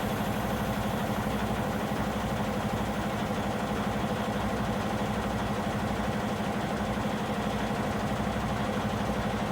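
A semi truck's diesel engine idles with a steady low rumble and vibration throughout, while the tractor's air suspension rises to meet the trailer; no distinct air hiss stands out over the constant engine drone.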